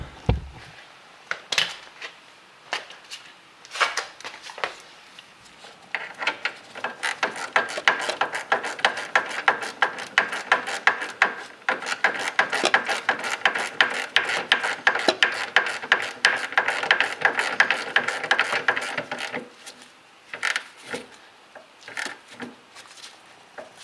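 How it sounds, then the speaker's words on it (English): A ratchet tightens the upper nut on a rear sway bar end link of a 2007-2012 Hyundai Elantra, giving a long run of quick close metallic clicks that thicken into a steady rapid chatter midway before a few scattered clicks. "We're going to get a ratchet in here,"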